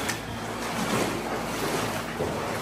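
Water splashes and rushes continuously as someone moves through a cave, a close, steady churning wash with a windy, turbulent texture.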